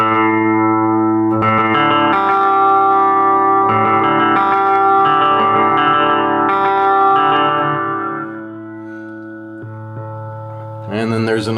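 An electric guitar played through a Fender Champion 20 practice amp with delay, sustained chords ringing loudly with echoing repeats and reverb, easing down to a soft tail before a fresh strum bursts in at the end.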